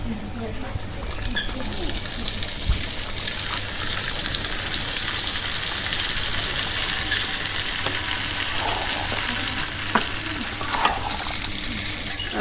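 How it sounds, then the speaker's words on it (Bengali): Ghee is added to oil where onion pieces have been frying, giving a dense, continuous sizzle close by with stirring clatter and scraping throughout, and faint voices in the background. "এখন এই যে ঘি দিয়ে দিতেছি তেলে"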